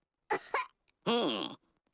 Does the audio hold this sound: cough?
yes